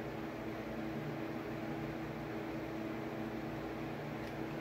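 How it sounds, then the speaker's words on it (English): Fans run steadily in a hot room, giving a faint, even whir and hum that holds without change throughout, with no talking. "And I apologize if you hear fans in the background."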